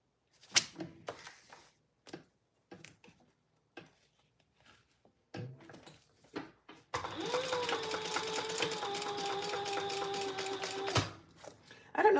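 A sewing machine bastes fabric in place: scattered clicks and small handling taps first, then the machine runs in one steady, close, whirring stitch burst for about four seconds before stopping, with a faint voice briefly in the gaps.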